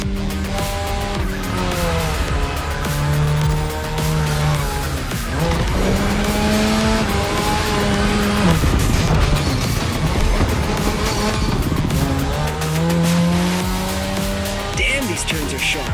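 Mazda RX-7 drifting in The Crew Motorfest, its engine revving up and down through the corners while tyres squeal in long skids, loud and close, with someone talking over it.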